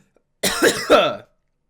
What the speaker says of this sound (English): I'm going to give it a good cough.